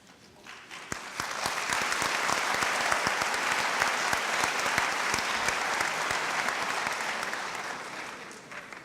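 Audience applause at a college undergraduate commencement ceremony, a sustained sheet of many hands clapping with some sharp individual claps standing out, swelling in and holding steady throughout.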